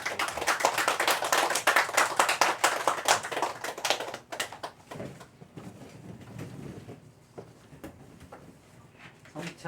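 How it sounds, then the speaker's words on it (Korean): A church congregation at a Sunday service applauds in a dense, lively round of clapping that lasts about four seconds, then thins to a few scattered claps and quiet room noise. "박수로 함께 축복해 주시기"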